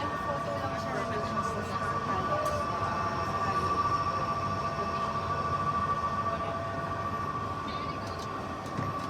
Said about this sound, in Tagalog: Nasa-tren tayo ngayon.